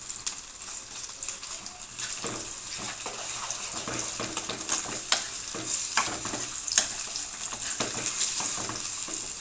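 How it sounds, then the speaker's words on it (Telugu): Freshly made ginger garlic paste fries in a pan with a bright steady sizzle, punctuated by repeated scraping stirs and spatula knocks close by. "తయారు చేసుకున్న అల్లం వెల్లుల్లి పేస్ట్ వేస్తున్నాను"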